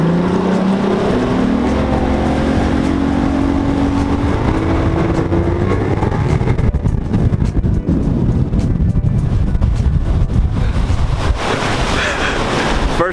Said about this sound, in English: checking in with you guys for the first time out here from the water on the bass boat.